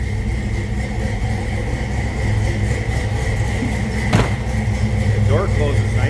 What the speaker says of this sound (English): Just the rumble out of that 302, great sounding car.